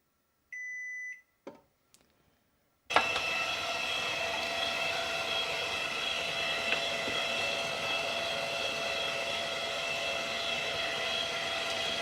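A few short electronic beeps sound from a Sam Cook planetary kitchen robot, then its motor starts abruptly and runs with a steady, loud whirring drone until the end.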